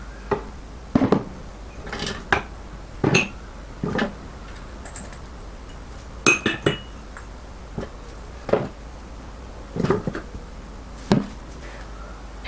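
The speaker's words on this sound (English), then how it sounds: "add all the ingredients into the food processor" Ingredients for chicken satay going into a food processor bowl: a series of separate knocks and clatters, some sharp and some dull, spaced irregularly about a second apart, fairly close with no voices.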